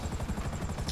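A helicopter in a video game makes a steady, loud rotor thumping that pulses rhythmically and continuously close by, with no talking.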